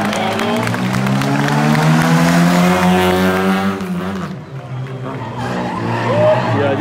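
Small Mini rally car skidding through a stage at a rally sprint event, a loud, sustained engine and tire squeal sweeping in pitch for several seconds, then fading as crowd noise and commentary talk continue.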